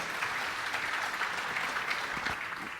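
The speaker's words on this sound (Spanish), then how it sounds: "Un fuerte aplauso para él, por favor." A conference audience gives a steady round of applause after a talk on cloud-based digital security, dense clapping that holds evenly throughout with no voices standing out.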